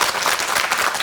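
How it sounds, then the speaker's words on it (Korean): A studio audience on a Korean morning talk show gives a short, dense burst of applause that thanks a Buddhist monk guest, loud and continuous with no speech over it. "감사의 박수 전해드리겠습니다"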